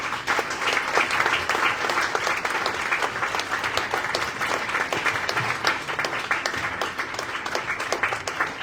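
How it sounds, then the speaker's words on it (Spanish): Steady, dense applause from an audience at a memorial tribute event, loud and continuous throughout with no voices over it. "un aplauso para todos"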